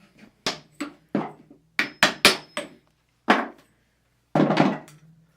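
Hammer tapping a part onto a mountain bike fork during a Rockshox Recon Solo Air upgrade: about eleven sharp metallic knocks in irregular bursts, some paired, with a heavier double blow near the end, close and distinct against quiet.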